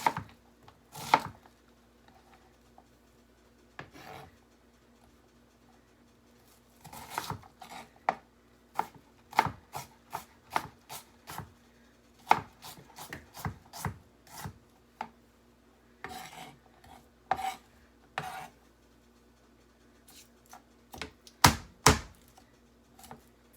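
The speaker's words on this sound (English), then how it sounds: "that's an easy way to peel your garlic" A knife strikes and crushes garlic cloves on a kitchen board, a run of sharp irregular chops and thunks, some in quick bursts and others spaced apart, close and clear with no talk.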